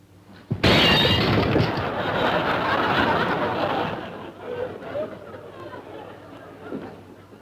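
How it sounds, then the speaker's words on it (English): Glass shatters in a sudden loud crash on a sitcom set, with a long crunching spray of breaking glass that trails off beneath chatter and laughter. "Did I hear breaking glass?"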